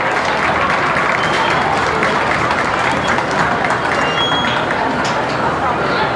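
A crowd at a county fair beef show applauds the cattle exhibitors with loud, continuous clapping from many hands, mixed with a speaking voice, heard close and sustained throughout.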